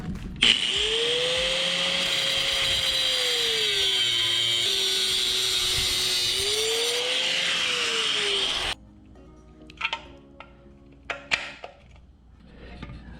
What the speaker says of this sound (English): cut this bracket off here.